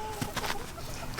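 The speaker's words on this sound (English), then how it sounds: "One of the best chickens on Walker Farm" Chickens on a farm give short, close clucks in scattered bursts, mixed with faint background noise and a brief bit of talk.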